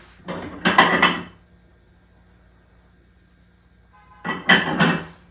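Dishes are handled in a kitchenette cabinet in two short bursts of clinking, rattling ceramic, separated by a few seconds of near silence.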